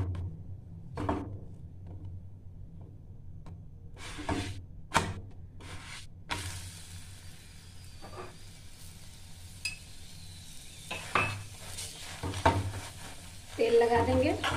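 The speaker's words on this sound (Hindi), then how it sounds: "पराठा को आप पकने देंगे, लगा देंगे तेल।" A plain wheat-flour paratha cooks on a pan with oil, giving a steady sizzle that grows fuller partway through, with a few scraping stirs and light clinks over a low background hum.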